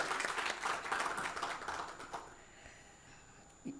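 Audience applause at an Aegean Airlines informational meeting after a presentation given in Turkish, a dense, fairly loud burst of many clapping hands that thins out and fades away over the last couple of seconds.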